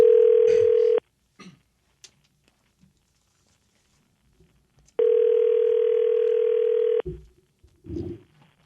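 A telephone dial tone sounds loud and steady for about a second, then returns for two seconds while a call is placed, with faint clicks and small noises between and just after.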